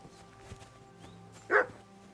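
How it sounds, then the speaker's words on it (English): A single dog bark rings out at mid distance in the medieval video game Kingdom Come Deliverance 2, short and moderately loud over quiet ambient game sound and faint footsteps. "Barking."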